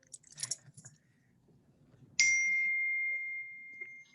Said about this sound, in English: that was my phone. That was my ding.